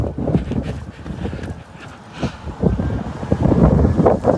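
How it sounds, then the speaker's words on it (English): Gusty wind buffets the microphone, a rough low rumble that swells and fades in uneven bursts, with no voices. "It is windy as hell out here."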